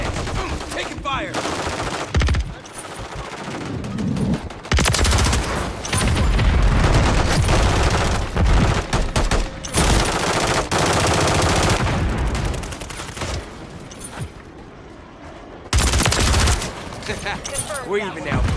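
Rapid automatic gunfire bursts and single shots from Call of Duty MW3 multiplayer fill the clip, loud and dense with short breaks between bursts and occasional booms, with voice lines mixed in.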